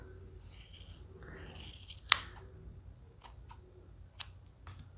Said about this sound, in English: we'll just cut the loops on this end, and we are just going to trim this tassel on this end